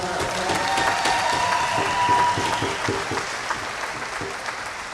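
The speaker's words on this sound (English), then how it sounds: "Please give them a round of applause." Crowd at a junior lacrosse game arena claps for the Whitby Warriors team after their match against the Orangeville Northmen, loud and sustained at first, then thinning and tapering off with scattered claps.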